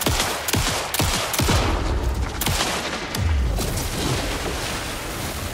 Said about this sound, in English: she's shooting shit at me